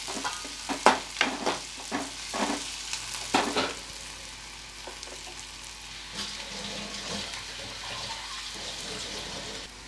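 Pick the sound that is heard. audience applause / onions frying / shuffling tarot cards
onions frying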